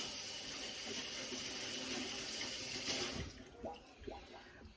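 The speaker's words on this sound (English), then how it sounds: "I'm going to rinse my hands." Hands rinsed under a running kitchen tap, a steady close splashing rush of water that cuts off near the end, followed by a few faint clicks and knocks.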